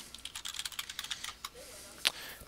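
Keystrokes typing a password on a computer keyboard at a point-of-sale register, a quick run of close, light clicks and taps followed by a sharper final key press.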